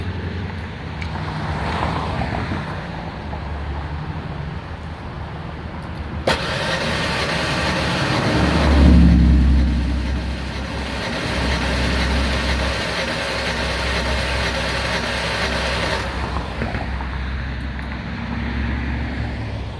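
Ford Ranger 3.0 engine cranking with the starter during a compression test, a steady loud churning drone that swells partway through and runs for most of the stretch without any voices.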